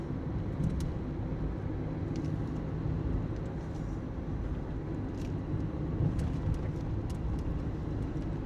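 A car drives along a road leaving Ventnor, giving a steady, unbroken rumble of engine and tyre noise with no voices and no change in level.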